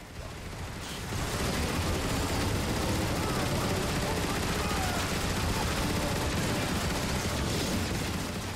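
Rapid weapon gunfire in Transformers: Fall of Cybertron, a dense, loud, continuous barrage of shots building after the first second and holding steady to the end.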